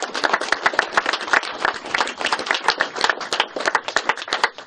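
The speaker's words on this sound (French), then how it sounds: "Je pense qu'on peut aussi les applaudir vivement." A small audience at a French cinema and photography museum event claps, distinct individual hand claps in a quick, uneven rhythm, close and fairly loud, with no talk over them.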